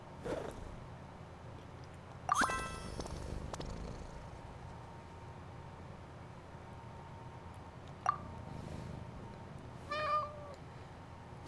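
Cat in the Genshin Impact video game: a soft, faint purring bed with a few short meows and chirps scattered across roughly eleven seconds, quiet overall with no talk.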